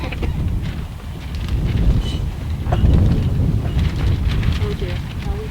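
Outdoor wind buffets the microphone at a gathering, a continuous low rumbling roar with gusty swells lasting throughout, with faint voices in the background.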